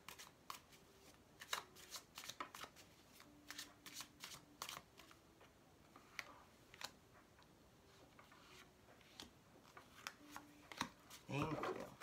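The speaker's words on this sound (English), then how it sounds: "We're also going to ask for 3 cards out of this beautiful deck." A tarot card deck is shuffled close up in repeated crisp riffles and flicks, with sharp card snaps scattered through a quiet room and a denser flurry of shuffling at the end.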